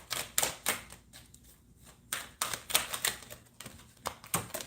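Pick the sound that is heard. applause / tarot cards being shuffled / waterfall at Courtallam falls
tarot cards being shuffled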